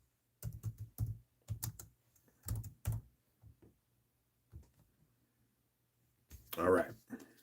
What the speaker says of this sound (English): let's type in there.